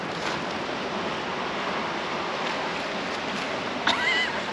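Rushing water from falls, a steady broadband roar of water with wind buffeting a handheld action camera outdoors, continuous and fairly loud throughout, with a brief voice near the end.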